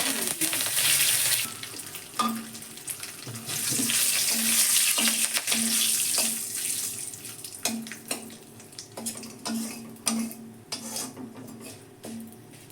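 Fennel, cardamom, cinnamon, cloves and bay leaf sizzle in hot oil over a low flame, a close, crackling hiss broken by repeated clinks and taps of a utensil against the pan.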